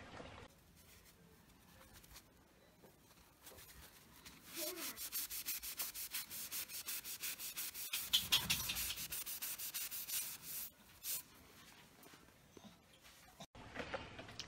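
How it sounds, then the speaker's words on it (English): A water-only cleaning eraser scrubs crayon off a surface in a steady run of close, brisk rubbing strokes that builds in the middle, with quieter gaps before and after. "I'm going to insert a little clip now of me removing said crayon"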